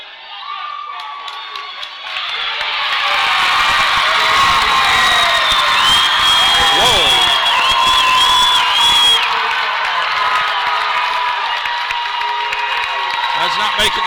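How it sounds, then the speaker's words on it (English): Basketball crowd at a Lady Tigers versus Salem game erupts after an officials' call, a loud sustained roar of cheering, whoops and shouts that swells after a quieter start and holds steady. "Both crowds up cheering Houston for the call."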